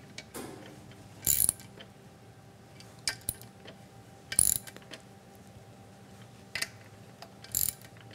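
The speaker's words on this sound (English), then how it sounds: "So now we'll see how good Jesse's wrist is as a torque wrench" A hand wrench ratchets in a few short, separate clicking bursts spread over several seconds while tightening driveline bolts on an electric vehicle, with a quiet mechanical hum underneath.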